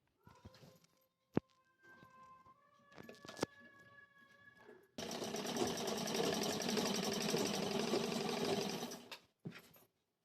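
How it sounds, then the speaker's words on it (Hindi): A sewing machine stitches together sharara fabric panels in one loud, continuous run of about four seconds, with soft handling clicks and knocks before it starts and a short burst at the end. "अब मैं ये दोनों पल्ला ये इस तरह से पकड़ के इधर से मैं स्टिचिंग कर दूंगी।"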